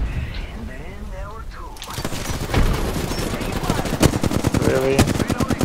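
Rapid automatic gunfire rattles through a video game shootout, dense bursts building in the second half with sharp louder shots near the end, while players talk over it.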